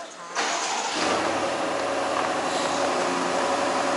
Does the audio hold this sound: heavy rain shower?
no